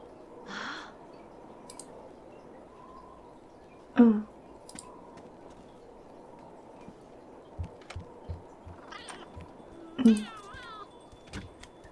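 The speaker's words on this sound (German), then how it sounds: "Jetzt beobachtet sie die Katze oder was?" A cat in The Sims 2 video game meows several times, short distinct mews spaced apart over a quiet background with scattered small clicks.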